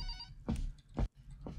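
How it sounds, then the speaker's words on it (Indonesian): A telephone rings in a horror video game, three short bursts of ringing in quick succession, fairly quiet and on their own. "Ya ada telepon."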